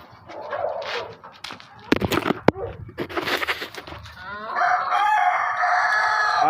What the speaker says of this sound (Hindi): आपने मुर्गे को देखा है